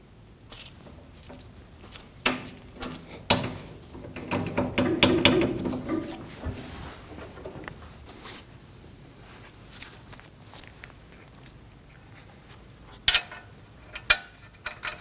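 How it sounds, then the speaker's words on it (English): A ratchet clicks in quick bursts while tightening a ball joint on the front control arm of a 2016–2022 Honda Pilot. The metallic ratcheting is close and fairly faint, mixed with shuffling and small clanks of parts. "We can tighten down the ball joint."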